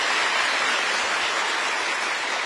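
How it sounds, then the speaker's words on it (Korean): A large audience of newly appointed national civil service managers applauds at a lecture, giving dense, continuous clapping at an even level throughout. "박수 부탁드리겠습니다"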